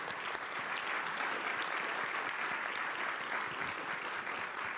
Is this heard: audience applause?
yes